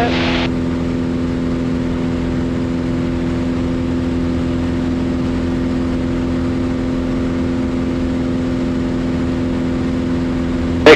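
A STOL CH 750 Super Duty aircraft engine drones at a steady high power setting, a loud, even propeller hum held constant throughout with no speech.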